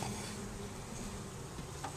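Honeybees buzzing on a hive frame, a faint continuous drone near at hand with a few louder passes as individual bees fly close.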